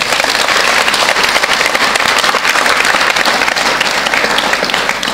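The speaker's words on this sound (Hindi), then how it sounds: "एक बार खुद के लिए ताली बजाओ" A seated audience at a spiritual talk applauds themselves on the speaker's cue, producing loud, dense and continuous clapping from a large crowd that holds steady throughout.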